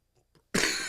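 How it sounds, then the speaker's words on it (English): A single loud, close cough bursts out after a brief quiet pause with a couple of faint breathy sounds, ending the moment abruptly. "as I cough"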